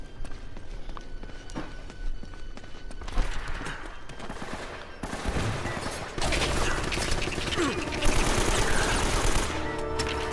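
Sustained gunfire in Uncharted: Drake's Fortune, dense bursts of automatic fire layered with game footsteps and noise, loud and continuous, growing heavier toward the end.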